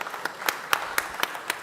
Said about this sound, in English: Let there be a round of applause.